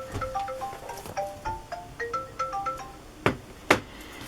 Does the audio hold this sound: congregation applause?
no